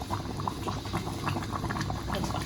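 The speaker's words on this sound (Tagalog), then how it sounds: "Nagpakulo lang ako ng munggo" Mung beans boiling in a pot, a steady close bubbling and popping with a continuous watery roil throughout, no voices.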